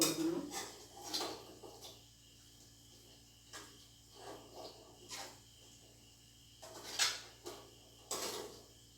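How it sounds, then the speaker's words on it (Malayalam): Chicken curry with coconut milk being stirred in a pot, heard as scattered scraping and clinking of a spoon against metal at irregular intervals, fairly faint over a quiet kitchen background. "നന്നായിട്ട് ഇളക്കി"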